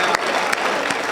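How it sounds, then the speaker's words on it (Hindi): An audience at a kavi sammelan, a poetry gathering held for the Bhagwan Mahaveer Janm Kalyanak festival, claps in a brief, thin burst of applause lasting about a second. "तालियां कमजोर हैं"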